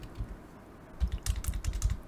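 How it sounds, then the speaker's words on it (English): Quick keystrokes on a computer keyboard, a faint brief pause followed by a short close burst of clicky typing with no speech. "And I'm going to type in"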